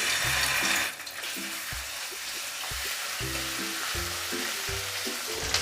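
Grated ginger frying in a little white oil in a wok makes a steady, close sizzle that eases slightly after a second, with low stepped tones running underneath.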